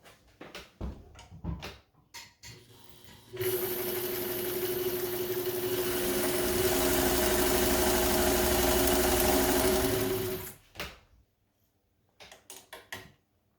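A vintage Kenmore 540 sewing machine runs a straight stitch in one continuous whirring hum for about seven seconds, loud and close, with scattered clicks and handling noises before and after.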